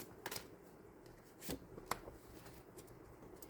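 Tarot cards being shuffled and drawn, heard as a few soft, brief rustles and taps that are faint and close in a quiet room.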